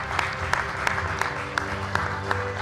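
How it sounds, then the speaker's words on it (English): Audience clapping at an automotive forum and awards ceremony in Bucharest, a steady medium-sized round of applause with individual claps standing out sharply, filling the room throughout. "A big round of applause for her work."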